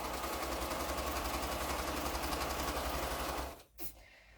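A sewing machine stitching quilt pieces together, running in a fast, even mechanical rattle for several seconds up close before stopping with a short click.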